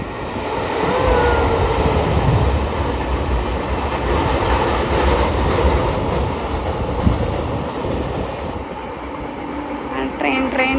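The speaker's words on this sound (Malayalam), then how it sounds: "ട്രെയിൻ വരും കേട്ടോ." A train rumbles past close by, with a continuous clattering roar that fades toward the end as voices chatter in the background.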